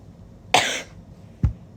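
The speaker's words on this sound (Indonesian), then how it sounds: "Maaf guys, batuk lagi deh." Two coughs, one harsh and one short and low, separated by a brief pause, close by with no talking.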